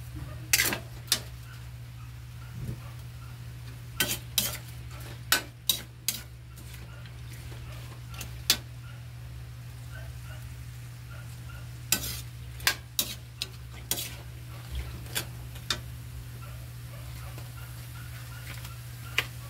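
Onion and garlic sauté in a pan at low sizzle, with a spoon repeatedly scraping and clinking against the metal in scattered sharp knocks over a steady hiss.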